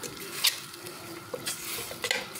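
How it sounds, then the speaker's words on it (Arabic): Spices and a mixture being stirred in a frying pan for an Algerian bakbouka of tripe, with soft scraping strokes over a steady sizzle and a few sharp utensil clinks against the pan. "نخلطو نخليوها تتقلى شويه"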